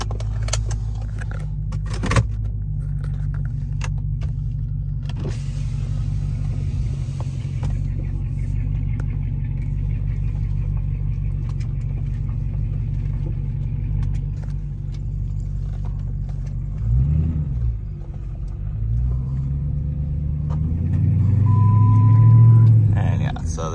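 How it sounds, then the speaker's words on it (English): A Dodge car with a right front wheel speed signal fault drives on the road, its engine and tyre rumble steady and close from inside, with a brief clink early on and a swelling rumble near the end. "I cleared the code, so I'm gonna take it for a drive"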